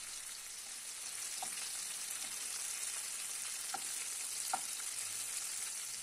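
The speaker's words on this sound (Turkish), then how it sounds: "Biberlerimi de bir çatal yardımıyla alt üst ederek her tarafının kızarmasını sağlayacağım" Peppers and tomatoes sauté in a pan with a steady, close sizzle, while a fork turns them with a few faint taps and scrapes against the pan.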